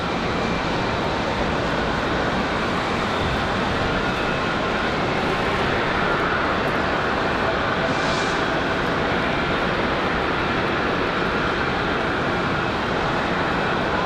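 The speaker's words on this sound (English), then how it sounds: "Next up, we've got Delta 1337 coming in from Orlando as well." A Delta airliner from Orlando comes in to land at Raleigh-Durham International in snowy weather, a constant wide rumble of jet engines that stays level for several seconds with no talking over it.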